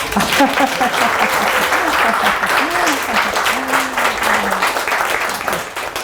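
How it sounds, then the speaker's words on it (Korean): Sustained audience applause at an after-work humanities lecture, dense even clapping filling the hall throughout, with a speaker's voice faintly carrying over it. "박수 한번 주세요"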